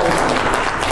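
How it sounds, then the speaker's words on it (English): A church congregation claps in praise during a worship service, a dense, steady burst of many hands filling the room for about a second. "Give Lord a hand clap of praise."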